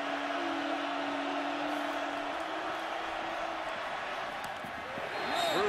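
A college football stadium crowd at a Miami vs. Cincinnati game gives off a dense, steady roar that stays loud throughout and swells slightly near the end, with a steady tone running underneath for the first half.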